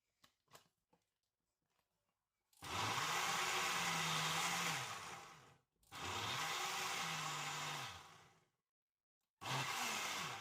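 A blender purées chilies into peri peri sauce in three loud, sustained runs of several seconds each, with brief pauses between them and a few faint knocks before the first run.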